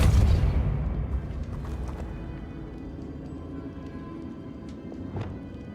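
A deep boom from a Depulso force spell cast in Hogwarts Legacy, loud at the start and then fading into a long rumbling tail, with a few faint clicks near the end.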